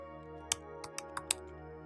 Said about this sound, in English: I'm going to type in config user radius.